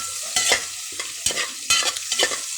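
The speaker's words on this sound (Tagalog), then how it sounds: "Halo-haloin guys hanggang maging golden brown" Native chicken pieces frying in a pan, stirred in repeated loud scraping bursts over a steady sizzle, with no voices.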